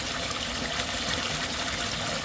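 A Bakki shower on a koi pond pours water down into a filter snorkel, producing a constant, fairly close splashing and trickling hiss that holds steady without pause.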